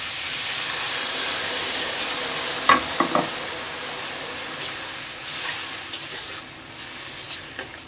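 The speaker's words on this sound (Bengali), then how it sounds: "কষানো হয়ে গেছে, এখন আমি জল দিয়ে দিব।" Water goes into a hot pan of fried potato and cauliflower for a cauliflower paneer curry, raising a strong steamy hiss that gradually dies down, broken by a few utensil knocks and stirring clinks.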